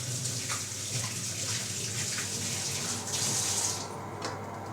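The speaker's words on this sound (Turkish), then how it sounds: "Elimi bir güzel yıkıyorum." Kitchen tap running steadily while hands are washed, close and fairly loud, with splashing changes in the stream and no talking.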